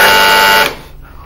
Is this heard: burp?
no